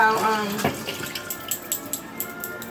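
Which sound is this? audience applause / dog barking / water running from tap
water running from tap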